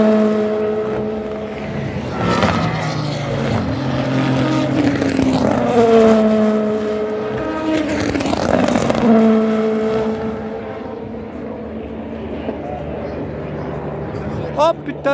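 Race cars at the 24 Hours of Le Mans roar past in several rising and falling engine sweeps, loud and close, with excited talking over them.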